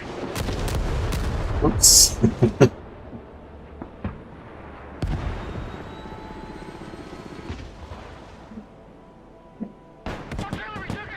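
Artillery fire in the real-time tactics game Broken Arrow, heavy booming blasts among mixed battle noise, a loud burst early and another later, with a brief spoken voice and radio-style unit callouts.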